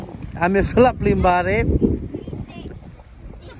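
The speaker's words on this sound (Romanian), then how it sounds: "Sper să scuzați vântul ăsta, este un vânt foarte tare." Gusty wind buffets the microphone with low rumbling bursts while someone speaks, loud and close.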